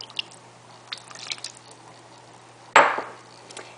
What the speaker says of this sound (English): I'm going to add just a little bit of water. This is about 1/4 cup of water.